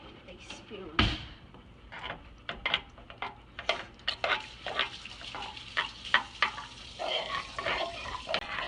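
Spoon stirring a sugar and water glaze in a heated pan for a French apple tart, giving repeated close scraping and clinking strokes in an irregular rhythm while a person talks throughout.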